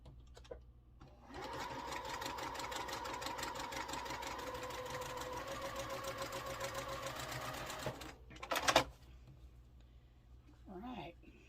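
A sewing machine stitching quilt block pieces runs in a steady, rapid hum for several seconds, fairly quiet and close, then stops, followed by brief handling noise and a short spoken remark.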